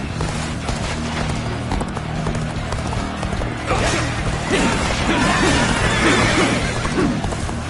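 Rapid hoofbeats clatter steadily through the clip amid a busy, layered background of Dynasty Warriors Origins battle sound effects, with a horse whinny rising near the end.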